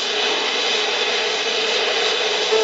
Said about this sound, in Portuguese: Aí está o segundo avião Hércules pousando.